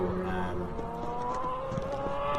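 Formula race car pulling out of the pit lane at the Kirkistown circuit in Ireland, its engine a steady droning whine that holds close and loud throughout, with a commentator speaking over it.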